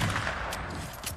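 Sniper rifle gunshots in a hilltop firefight in a video game, with loud, dense crackling fire that rolls on throughout, plus a couple of sharp bursts standing out near the middle and the end.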